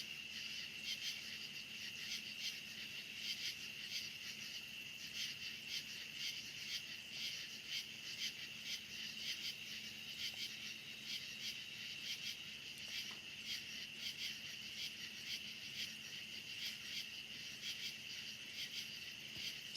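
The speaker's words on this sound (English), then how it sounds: "all the crickets on the left and cicadas are all making noise" Dense night chorus of crickets and cicadas, a steady high-pitched shrill drone that holds unbroken and fairly even throughout, with no voices.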